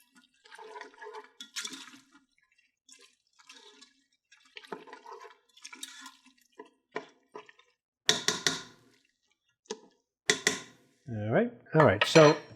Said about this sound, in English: let's just give this a quick stir here